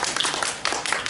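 A short burst of audience applause at a Smart City Expo panel, a brief, fairly steady spatter of many hands clapping at moderate volume.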